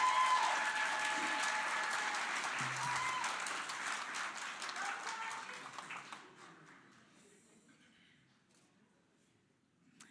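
Audience applause at a graduation ceremony in Johannesburg, loud sustained clapping from a large crowd that thins out and fades after about six seconds, with faint voices underneath.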